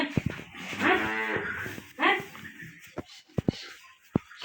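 A local breed cow gives a long, loud moo followed by a shorter second one, close by, then a few sharp clicks and knocks.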